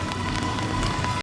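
Steady rain falls on an outdoor theme park at Dollywood, a continuous close hiss of drops on hard surfaces with no voices over it.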